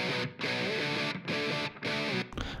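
Heavily distorted electric guitar chugs in loud, sustained bursts separated by brief silent gaps, with a thick, saturated amp tone.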